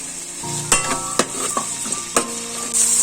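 Ivy gourd and green beans sizzle in a hot pan for egg fried rice, a constant loud frying hiss broken by four or five sharp spatula scrapes and clinks as the vegetables are stirred.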